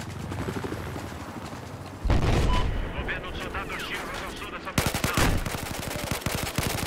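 In Battlefield gameplay, a gun fires short rapid bursts amid loud, dense battle noise and rumbling explosions, with a fast rattling volley standing out toward the end.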